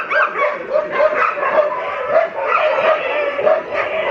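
Several dogs bark and yip over and over in a steady, overlapping chorus, close by and fairly loud, with occasional whimpering cries mixed in.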